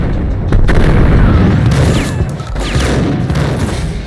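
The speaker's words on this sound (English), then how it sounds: "They take too many shots from the shotgun." Loud, dense shotgun fire in the video game Max Payne, heavy booming blasts running continuously with sharp overlapping reports and ricochet-like whines, no talk.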